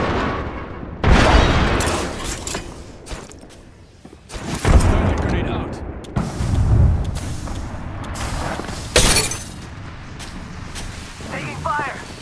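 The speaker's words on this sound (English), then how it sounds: "Throwing grenade." A grenade thrown and detonating in a squad-based shooter video game, several loud booming bursts amid gunfire across the stretch, with voice callouts over the action.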